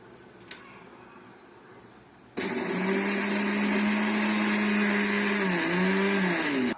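After a quiet pause with a small click, a mixer grinder grinding tomatoes starts abruptly and runs loud and steady, its motor whine dipping briefly as the contents churn.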